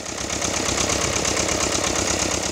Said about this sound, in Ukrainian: Шум трактора глушить періодичні звуки пострілів з боку кордону.